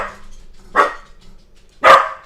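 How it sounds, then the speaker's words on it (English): A dog named Max barks twice, two loud, sharp barks about a second apart, with quiet background noise between them and no talking. "I don't know what Max is barking about."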